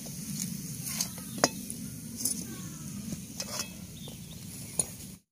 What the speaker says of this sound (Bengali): এবার সবগুলো একসঙ্গে মেশাতে হবে।